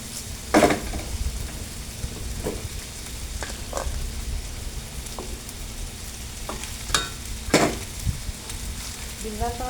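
Rice being stir-fried in a pan: a steady low sizzle broken by repeated sharp scrapes and clacks of a spatula against the pan, some louder and close, with no talking.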